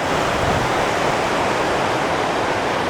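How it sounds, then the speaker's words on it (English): Birch Creek rushes along below a mountain trail in the Sierra, a steady, full hiss of flowing water with no pauses and no voices. "Birch Creek is down there."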